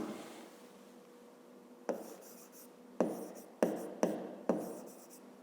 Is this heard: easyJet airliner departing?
no